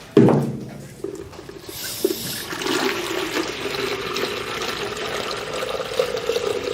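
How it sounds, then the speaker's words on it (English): Tap water pours into a bucket with a steady splashing rush after a brief clunk at the start, filling continuously. "That's just regular tap water, nothing special"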